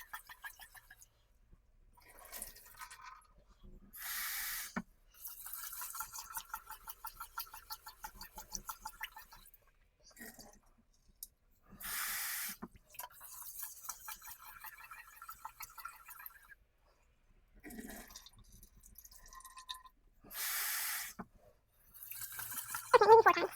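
Rice being washed by hand in water, rinsed about four times because it is very starchy, giving repeated swishing and sloshing bursts separated by short quiet gaps, close up with no talk.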